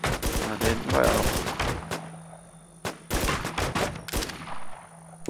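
Rapid bursts of gunfire in the video game The WarZ, loud and close, with repeated volleys separated by brief quieter gaps.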